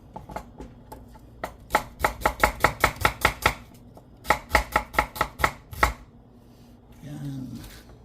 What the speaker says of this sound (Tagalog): Tapos mag-chop tayo ng sibuyas.